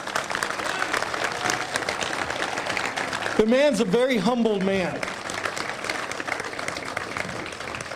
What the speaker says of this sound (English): so could you please clap for him?